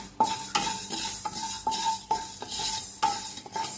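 Fenugreek seeds stirred in a pan over medium heat, with about ten regular scraping strokes riding on a soft, steady sizzle, close up and with no voices.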